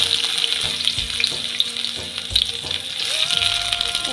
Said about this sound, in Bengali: এই যে আমার তেলটা গরম হয়ে গেছে। এবার আমি দিয়ে দেব পেঁয়াজ কুচি,